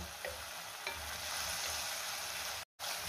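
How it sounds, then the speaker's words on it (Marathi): Chopped tomatoes sauté in a hot pan for a dhaba-style paneer curry, giving a steady, close sizzle with a couple of faint clicks and a brief cut to silence near the end. "2 मिनिटं मी टोमॅटो चांगला परतून घेतलेला आहे"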